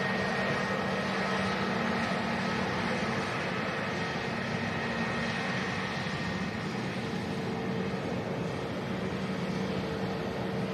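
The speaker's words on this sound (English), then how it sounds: "TUI Dreamliner next to depart." A TUI Dreamliner airliner sits on runway 23 left at an airfield, giving a steady, distant jet engine roar and broadband whoosh that holds evenly throughout with no talk over it.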